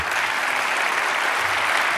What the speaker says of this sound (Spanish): para aplaudir al próximo gobernante de España, ¿ah? Santiago Bascal.